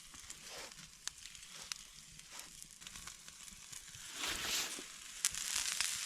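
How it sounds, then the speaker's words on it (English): Lamb shank seasoned with coarse salt and black pepper searing over an outdoor open fire, giving a quiet, steady sizzle with soft crackles and occasional sharp pops, faint and close. "We're gonna set it over this fire and just sear the outside."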